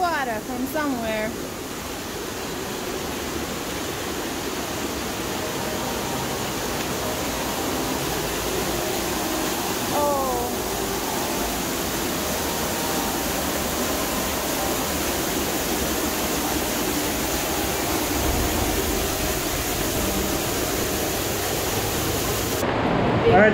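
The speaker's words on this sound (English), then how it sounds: "I hear a lot of water from somewhere." Steady rushing water, like a distant waterfall or stream, at Saklikent in Turkey, fills the scene as a constant broadband roar with faint voices now and then.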